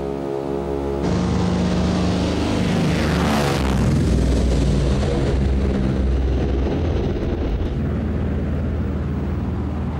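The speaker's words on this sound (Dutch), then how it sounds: "De Pratt Whitney R2800 zuigermotoren van de commando produceren 2000 pk en een ongelofelijke herrie" Pratt & Whitney R2800 radial piston engines of a C-46 Commando, 2000 hp, roar up suddenly after a low idle and hold a loud, steady, rough drone, as heard during takeoff.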